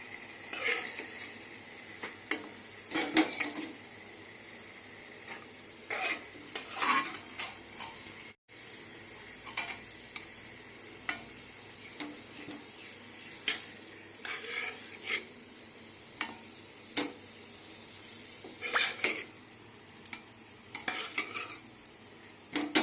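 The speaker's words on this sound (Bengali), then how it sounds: "আর এখানে রান্না করছি হচ্ছে 2টো ডিম, ওর জন্য।" Two eggs cook in a home kitchen pan, with soft sizzling under repeated scraping and stirring clatter from a utensil against metal, close and fairly quiet, pausing briefly about a third of the way through.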